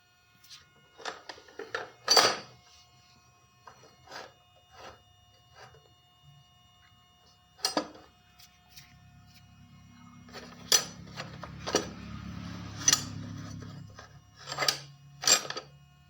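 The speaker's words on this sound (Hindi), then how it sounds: "ये गियर सॉकेट को मैंने निकाल लिया है, और इसकी स्प्रिंग वगैरह चेकआउट कर लेना है।" Metal clicks, scrapes and light clatter as a gear socket is worked out of a TVS Radeon BS6 motorcycle gearbox, with sharp taps spaced irregularly and a rougher rubbing stretch in the latter half, close and fairly quiet.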